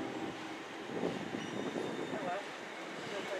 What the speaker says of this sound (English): off goes the Bakerloo Line train